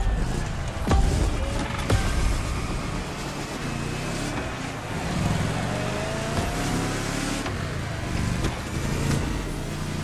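A fully upgraded car in The Crew Motorfest racing game drones under steady acceleration, engine pitch climbing through gear shifts, continuous and fairly loud for ten seconds with no pauses.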